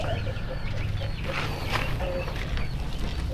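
A Pelung rooster, a tall heavy-bodied breed, crows and clucks near the listener in a village farm setting, the calls rising over a steady low background rumble.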